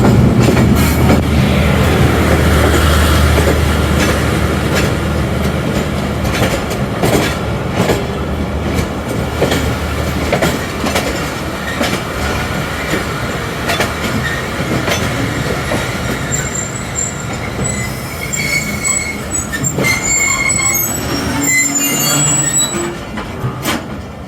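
A passenger express train pulls out of Wazirabad Junction in Pakistan, loud and close, with heavy rolling rumble, rhythmic clickety-clack and bursts of squealing wheels over about twenty-four seconds.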